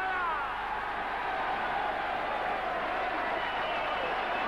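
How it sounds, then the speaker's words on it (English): Audience applause at the 1983 Embassy world darts final for runner-up Keith Dellar, a steady, dense wash of clapping throughout, moderately loud and even, with no voice on top. "Your applause, please, Keith Dellar!"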